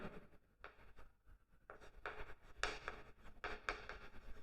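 Chalk or marker writing on a board during a chemistry lesson on aldehyde and ketone reactions, heard as a series of soft scratchy strokes in short bursts, close and fairly quiet, with no talk.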